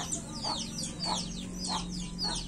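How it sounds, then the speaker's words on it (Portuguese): Chickens cluck in a farmyard, with a jealous rooster and a hen giving repeated short calls about every half second at close range over a steady low background hum. "Gente, quem já viu galinha ciumenta?"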